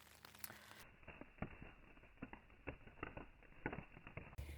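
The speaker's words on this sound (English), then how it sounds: "I'm waiting until it stops raining." Steady light rain patters on a tent during a cold morning of a solo hike on the Isle of Skye, soft irregular drops ticking close by with no talk.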